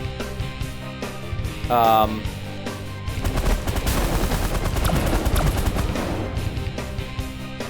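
Rapid gunfire from spaceships in the strategy game The Last Federation, dense crackling volleys layered over music and effects, steady through the clip with a tonal sweep near the start; someone talks over it.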